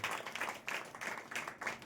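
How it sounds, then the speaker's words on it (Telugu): A congregation claps hard to glorify Jesus, with several rhythmic bursts of group applause rising and falling in quick succession. "కొట్టి చప్పట్లు గట్టిగా యేసయ్యను మహిమపరుస్తూ."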